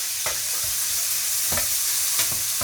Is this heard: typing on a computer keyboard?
no